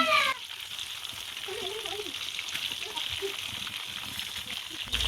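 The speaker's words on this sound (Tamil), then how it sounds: "அடுப்பை மீடியம் ஃப்ளேமில் வச்சு நல்லா பொறிச்சு எடுத்துக்கலாம்" Chicken pieces frying in oil over a medium flame for a white chicken fry, giving a steady, close bubbling sizzle that runs the whole time, with some soft low clatter.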